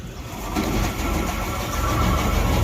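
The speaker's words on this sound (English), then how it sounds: "it uses the hydraulic power from the tractor, actually the same circuit that runs that fan, to run this auger" A grain auger runs on tractor hydraulic power while filling an air seeder, a steady low mechanical rumble and hum with faint rattling, close and continuous.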